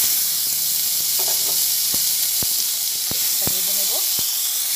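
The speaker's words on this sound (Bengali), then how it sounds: "পেঁয়াজটা ভাজা হচ্ছে" Chopped onion frying in oil in a wok after small fish were taken out, a constant close hiss and sizzle with sharp metallic clicks and scrapes throughout.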